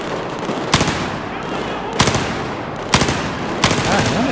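Four sharp, loud gunshot bursts from the video game Battlefield 4 ring out at irregular intervals over a steady background hum, with a faint voice in between.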